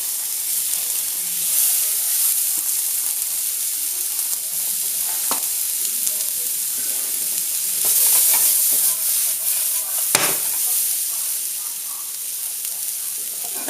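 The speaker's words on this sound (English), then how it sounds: "At this point I'm going to add my rice." Rice, onions, chilli and mushrooms frying together in a pan for paella, a loud constant sizzle and hiss with occasional stirring scrapes and a sharp clatter near the end.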